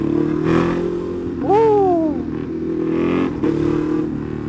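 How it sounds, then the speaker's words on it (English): A Ducati Hyperstrada motorcycle on dual-purpose tyres revs briefly and then burbles and crackles as the throttle is released, a loud nearby engine with a rising and falling pitch. "Buset, kalau lepas gas brrrr."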